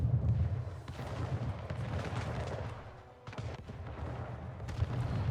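Cannon fire from a naval fleet attacking a port in Anno 1800 rumbles in heavy, overlapping booms, a dense low roar with a brief dip before the barrage resumes.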